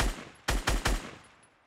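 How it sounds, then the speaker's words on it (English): Gunfire in the video game Fortnite: one sharp shot, a short pause, then three quick loud shots in a rapid burst, each decaying into a fading echo. "Oh, he's getting shot from behind."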